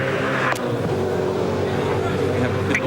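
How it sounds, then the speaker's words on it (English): Rough, uneven engine note from a V8 Supercar with a broken exhaust header, idling or trundling through the pit lane at Ipswich in 2003, a steady loud drone with a brief sharp burst near the start and end. "Doesn't sound too healthy with the broken header. Sounds like an old Massey Ferguson tractor in the pit lane there at the moment."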